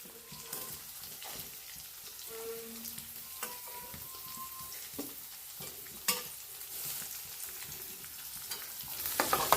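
Onion and mustard seeds frying in hot oil, a steady broadband sizzle with occasional stirring scrapes and small pops, growing louder toward the end; no talking.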